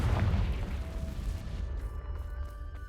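A fiery Confringo spell bursts in Hogwarts Legacy, a deep rumbling explosion loud at the start and trailing off into a low, decaying roar with faint ringing tones.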